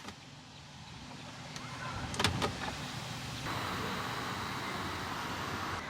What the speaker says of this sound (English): The passenger mirror will go up to where it is supposed to be, to where I have set it.